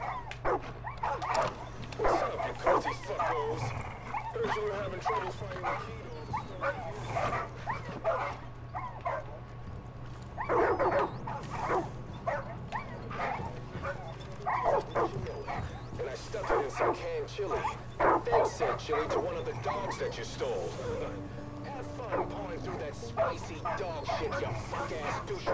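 Dogs in the Far Cry 5 video game yip, bark and whimper in repeated bursts near a prepper stash, over a low steady hum, with someone talking over them throughout.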